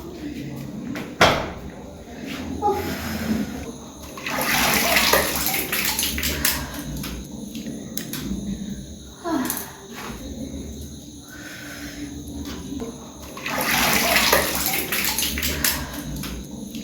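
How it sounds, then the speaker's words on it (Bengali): Water running in a home bathroom during face washing, splashing and gushing in bursts with pauses, plus a sharp knock like a door or cupboard near the start and faint talk in the background. "এখন মুখটা ধুয়ে আসি"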